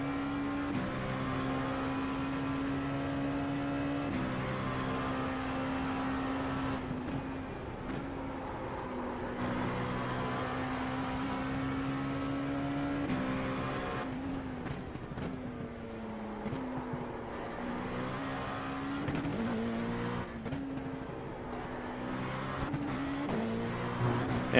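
An LMP2 prototype race car in iRacing during an IMSA endurance race, a loud sustained engine drone holding steady tone with shifts up and down through gears, continuous and close with no talking.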